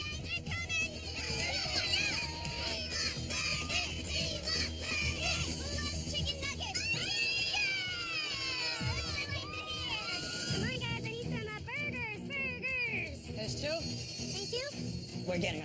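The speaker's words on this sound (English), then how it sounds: "that's why we're hearing a lot of cheering and yelling over there" A crowd of children cheers and yells at an outdoor cooking event, an excited hubbub of young voices with shrieks rising and falling throughout, mixed with steady chatter.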